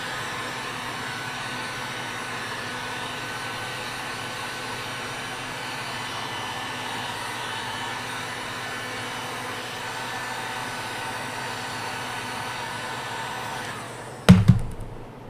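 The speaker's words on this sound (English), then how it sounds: "Heat gun dance." A heat gun runs steadily with a constant broadband blowing whoosh for about fourteen seconds, then clicks off with a couple of brief knocks as it is set down.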